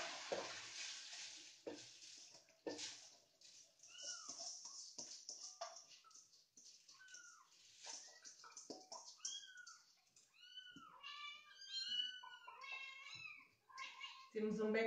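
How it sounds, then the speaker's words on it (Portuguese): Several cats meowing repeatedly, some calls drawn out and rising, mixed with kitchen clatter and light sizzling in the background. "Temos um background de som de fundo. São os meus gatinhos."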